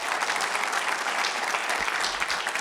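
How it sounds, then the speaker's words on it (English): An audience at a district party chair candidate forum claps steadily and fairly loudly for the candidates, a dense wash of applause with no voices over it. "you guys applaud for the candidates"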